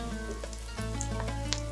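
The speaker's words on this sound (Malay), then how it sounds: "Tumis bawang Holland sampai lembut, sampai layu." Onions, garlic and green chillies sauté in a hot pan with a steady, close sizzle and scattered crackles, with no voices.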